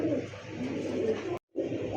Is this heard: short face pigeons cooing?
yes